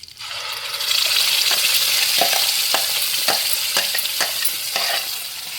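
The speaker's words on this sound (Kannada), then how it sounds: "ಇದು ಸಾಸಿವೆ ಪಟ್ಪಟ ಅಂತ ಇದೆ" Mustard seeds spluttering and popping in hot oil while tempering for a desi-style sambar, a dense steady sizzle with scattered sharp crackles, close and fairly loud, no talk.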